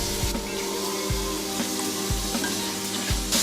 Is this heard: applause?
no